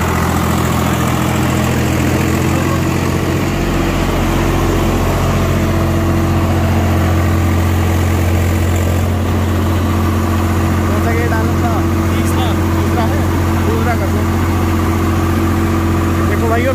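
A Swaraj 744XT tractor engine runs steadily at about 1800 RPM in second gear, a loud constant droning hum throughout with people talking over it.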